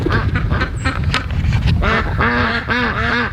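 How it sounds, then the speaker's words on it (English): Several ducks quack close by, a busy run of nasal, repeated calls overlapping one another with outdoor background noise. "And you'll see the ducks kind of hop in."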